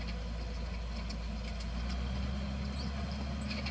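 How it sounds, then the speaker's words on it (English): A tractor engine runs with a steady low drone that grows slightly louder and heavier partway through, as if revved up, while powering a Kuhn Knight VT180 mixer wagon. "Rev the tractor up."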